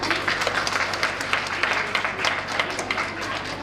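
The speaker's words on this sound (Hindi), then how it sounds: "शहरी जी के लिए जोरदार तालियां।" An audience at a ladies club Teej celebration breaks into brisk, steady applause, many hands clapping together close by with no talking over it.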